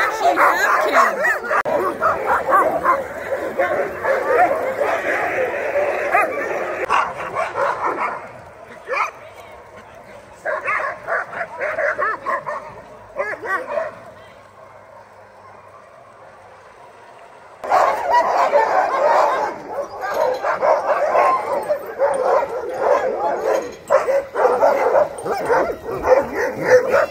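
Sled dogs in Alaska barking, yipping and whimpering in a dense, continuous chorus, loud and close, with a brief quieter lull midway before the yard erupts again; chickens or roosters may be mixed in.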